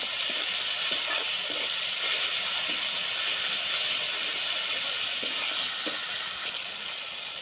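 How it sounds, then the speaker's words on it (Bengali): Ginger, garlic and dry chilli paste added to fried onions in hot oil makes a loud, steady broadband sizzle that runs throughout, close and unbroken, with no talk. "এবার বেটে রাখা আদা রসুন শুকনো লঙ্কা পেস্ট আমি দিয়ে দেবো।"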